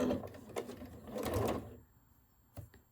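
A home sewing machine runs a short burst of stitches through quilt fabric, a close whirring hum that stops after a second and a half, followed by a faint click.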